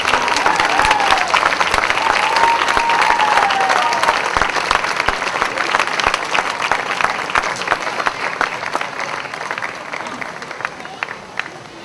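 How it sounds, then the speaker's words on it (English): Sustained applause from a large crowd at a July 4 awards event, loud and dense with overlapping claps, holding steady and tapering slightly toward the end, with some voices mixed in. "give this Marine a thundering applause"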